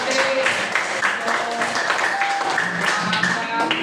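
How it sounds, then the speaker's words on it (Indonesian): A classroom group claps for the Sulawesi group in a busy, continuous patter that stays fairly close, with overlapping voices and chatter throughout. "Tepuk tangan buat kelompok Sulawesi."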